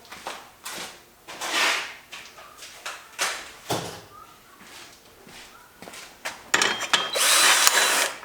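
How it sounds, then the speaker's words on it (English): Power drill used in a garage while working on a turbo LS Mustang, heard in short uneven bursts among clattering handling noises, ending in a louder sustained run close by. "Get our drill."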